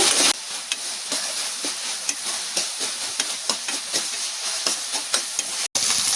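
Eggplant pieces for vankaya vepudu fry in a pan with a steady, close sizzle and hiss, broken by light rhythmic clicks and a brief gap near the end, with no talking.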